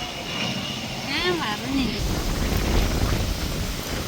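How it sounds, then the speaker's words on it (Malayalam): A broad airplane roar passes overhead on an island near a beach at night, swelling into a steady rushing drone in the second half, with brief tonal sounds near the start. "ഇതേ ഫ്ലൈറ്റ് പോകുന്നു"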